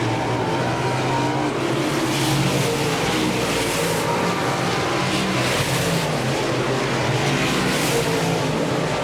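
Race car engines roar on an oval track during a race, with the number 7 car and others driving down the back stretch, a loud, continuous, dense engine drone that stays steady and close, with no voices heard.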